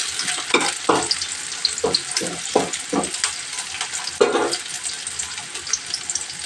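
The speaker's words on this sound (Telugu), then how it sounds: "నూనె అయితే కాగిందండి. ఇప్పుడు వచ్చేసి మనం ఈ 2 ఉల్లిపాయలు వేసేసుకున్నాం." Two onions frying in hot oil while being stirred, a steady bright sizzle with repeated scraping bursts of a spatula against the pan, close and fairly loud.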